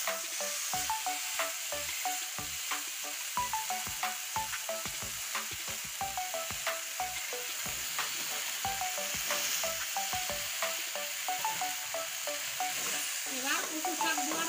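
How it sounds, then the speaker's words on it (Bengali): Boiled taro leaves are stirred in a hot pan, giving a steady sizzle with regular scraping, tapping strokes of a spatula throughout, close and fairly loud with no talking. "এবার এখানে আছে সেদ্ধ করে রাখা কচু শাক, এটা এখন দিয়ে দিচ্ছি।"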